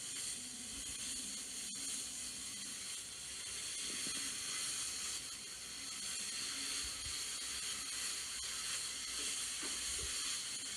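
Tomatoes going into a hot pan of onions for a soupy tomato and onion side dish, a steady broad sizzle and hiss running unbroken throughout with a few faint clicks.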